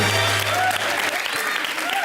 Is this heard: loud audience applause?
yes